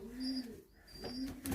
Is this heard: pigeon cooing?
yes